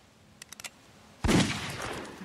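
A single sharp, loud gunshot from a .22 rifle in The Walking Dead video game, aimed at a bird, bursting out after a few soft clicks and ringing off into a short decay.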